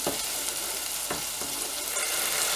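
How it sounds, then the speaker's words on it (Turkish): Chopped tomatoes sizzle and fry steadily in a pan for a squash stew, a continuous close hiss with a few soft stirring scrapes and no talking. "Evet domateslerimiz de kavruldu."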